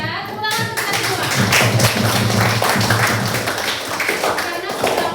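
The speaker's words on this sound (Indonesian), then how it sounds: "saya tepuk tangan untuk kalian semua" Clapping hands from a teacher praising a class during a geometry lesson, steady rapid claps filling the clip with a voice faintly underneath.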